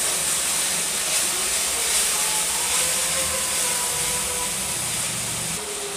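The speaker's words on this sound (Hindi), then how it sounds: "मसाले को हमें 2 मिनट पकाना है।" Masala spices sizzle steadily in hot oil while cooking for masala bhindi, a continuous even hiss that holds at the same level from start to finish with no talking.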